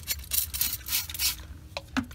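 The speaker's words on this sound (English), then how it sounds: "I'm going to spray it real good." Several short hissing bursts from a spray bottle onto algae in a fish tank, spaced unevenly and fairly close, with quiet rubbing sounds between them.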